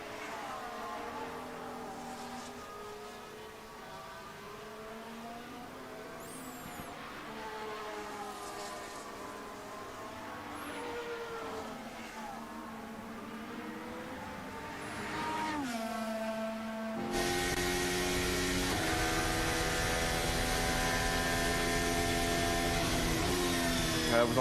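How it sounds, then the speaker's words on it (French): Formula 1 cars at Suzuka during Japanese Grand Prix qualifying, with engine notes sweeping down through downshifts before a loud, sustained high-pitched engine howl takes over near the end. "Vous entendez, ils viennent rétrograder pour pas trop taper dans le pneu."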